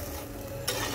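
A spoon stirring a pan of curry made with small mola fish after radhuni spice powder goes in, soft scraping over a quiet sizzle that grows a little louder near the end.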